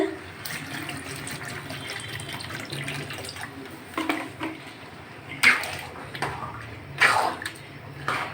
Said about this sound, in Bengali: এখন আমি একটু জল দিয়ে দিচ্ছি